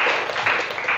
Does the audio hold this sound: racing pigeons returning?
no